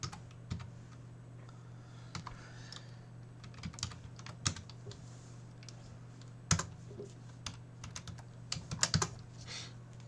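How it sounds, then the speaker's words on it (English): Calculator keys are pressed in irregular bursts, sharp little clicks and taps that are close and quiet over a steady low hum, with no talk. "Handy dandy calculator."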